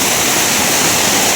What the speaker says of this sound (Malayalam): അപ്പോൾ ഇതാണ് വെള്ളച്ചാട്ടം ഗൈസ്